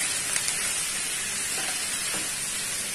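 Tomatoes sizzle in a pan of mixed vegetables for a pepper fry, a constant close hiss and crackle with faint stirring taps and no voices.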